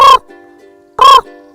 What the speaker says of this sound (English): The raven's call is gurgly and deep,